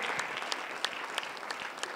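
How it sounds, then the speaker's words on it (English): A church congregation claps for Jesus Christ, a lively, sustained burst of many hands with crisp individual claps popping out of the dense applause. "Clap for Jesus Christ."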